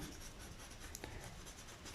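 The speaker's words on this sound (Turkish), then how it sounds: "Şöyle turuncu kalemle şuraya kadar olacak. 45'e kadar tam gelecek. Ortasında şöyle birazcık boyayım." An orange colored pencil shades a bar chart column on paper in a steady, soft scratching stroke, faint and close, with no one talking.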